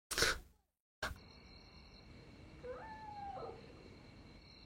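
A cat meows in a film scene. A short, faint yowl rises and falls over a quiet room hum after two brief bursts of noise, and there is no talk.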